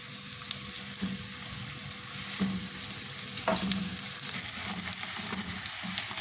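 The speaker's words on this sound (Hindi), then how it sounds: "इनको अब मैं गोल्डन ब्राउन फ्राई कर दूँगी" Sliced onions fry in oil toward golden brown, giving a steady close sizzle with occasional scraping stirs and clinks of a utensil against the pan, no voices.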